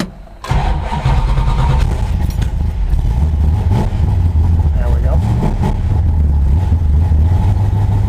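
A Dodge Dart drag car with a big 850 CFM carburetor starts up, then its engine idles loud and close, rising in a couple of revs before settling into a steady rumble.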